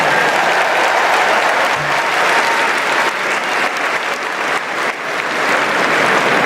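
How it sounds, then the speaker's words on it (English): A large convention audience applauds on the first night of the Democratic National Convention. The clapping is loud, dense and steady throughout, with no talk over it. "Let's give Brian and Sandra another round of applause."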